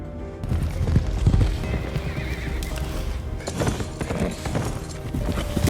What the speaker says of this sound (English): he saw a horse running out, and Arminius was already at the foot of the